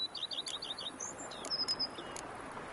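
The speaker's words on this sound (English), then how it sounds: "Bees buzzing, birds chirping." Birds chirp in a video game: quick strings of thin tweets and short whistled calls repeat at a light pace, fairly faint and alone over a soft, even background.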